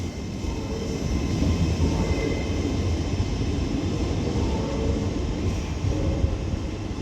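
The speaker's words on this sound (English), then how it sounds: "terminating in over here is another Northern Class 331 coming in from Manchester" A Northern Class 331 electric multiple unit rolls into Liverpool Lime Street with a steady low rumble and a broad wash of wheel and motor noise, fairly close and constant throughout, with no voices.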